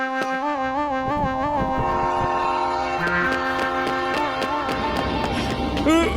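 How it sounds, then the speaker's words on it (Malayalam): An animated train arrives in a cartoon, with a loud sustained horn blast over the heavy rumble of cars rolling in and rhythmic clicking that speeds up near the end, close and continuous. "വരൂ വരൂ, ട്രെയിൻ എത്തി."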